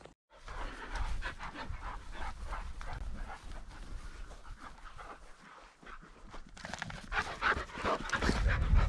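Hunting dogs pant rapidly and excitedly up close before a sharptail and partridge hunt in Montana, with a steady rhythmic breathing, occasional whines, and rustling.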